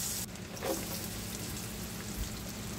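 Garlic frying in a little melted butter in a pan as the base for a chicken mushroom sauce, giving a steady soft crackling sizzle close by with no one talking.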